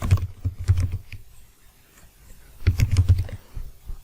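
Code is typed on a computer keyboard in two quick bursts of close, crisp keystrokes separated by a quiet gap of about a second.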